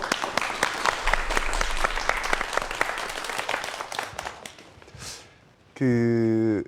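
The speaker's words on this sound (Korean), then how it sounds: "다시 한번 박수 부탁드릴게요" Audience applause welcoming Jin Jeong-hoe, CEO of XDrone, to a talk on future drones, dense clapping for about four seconds that thins out, followed by a loud sustained tone at the end.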